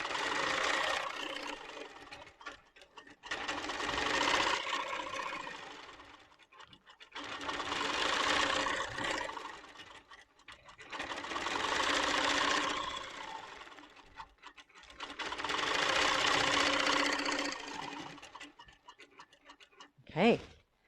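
A Pro-Stitcher Lite computerized quilting machine stitches in four long, steady runs of a few seconds each, a dense rapid mechanical whir separated by short pauses, close and clear, followed by a brief knock at the end.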